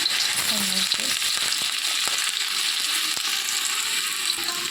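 Potatoes frying in hot oil in a wok, a steady loud sizzle that holds throughout with a few faint clicks and stirring sounds underneath.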